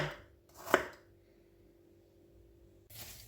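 Knife chopping peeled apples on a board for a lavash strudel: a couple of soft cuts and one sharper chop near the start, then quiet, with another short burst of cutting at the end.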